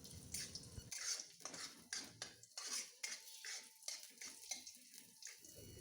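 Lentil masala being stirred in a metal pot, with repeated clinks and scrapes of a spoon against the pot in an irregular rhythm, close and fairly quiet, no talking.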